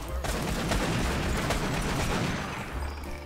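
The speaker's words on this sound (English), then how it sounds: "why do you fire so much faster than I do? Semi-auto shotgun." A semi-automatic shotgun in a Half-Life co-op video game fires in a rapid, dense stream of loud close blasts, continuous for several seconds before easing off.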